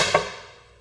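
A single sharp crack as an engine head nut strips and lets go under torque on a test rig, ringing out and fading over under a second.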